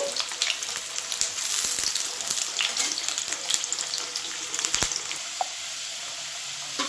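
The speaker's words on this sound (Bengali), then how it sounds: "তাহলে চলুন আগে আলুটা ভেজে নিই ভালো করে" Potatoes, cut large as for mutton curry, fry in a pan of oil with a steady broad sizzle, punctuated by clinks and stirring scrapes throughout.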